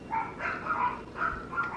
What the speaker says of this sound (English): wouldn't be a video if my dogs didn't bark